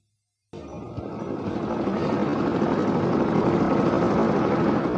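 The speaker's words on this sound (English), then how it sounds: "The engine started and he couldn't hear anything else. The helicopter took off and climbed slowly into the sky." A helicopter engine starts abruptly from silence, and its loud whining, thrumming roar builds and holds steady as the rotor spins up for takeoff, close and alone.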